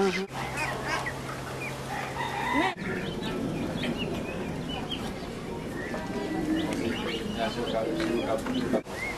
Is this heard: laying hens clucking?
yes